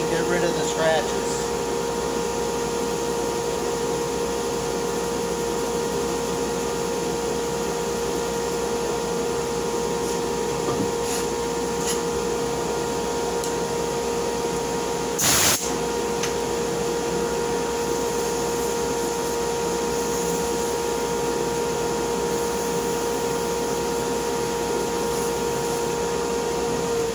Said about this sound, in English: Turn that dust collector off.